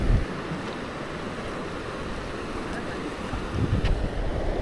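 Sea water surging in at high tide at Manori, reaching the parked vehicles, a steady rushing wash of water with wind buffeting the microphone, swelling louder at the start and near the end.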